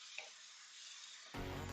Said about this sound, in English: my mushrooms with the marinade into my pan with the onions, and this is just sizzling its way through.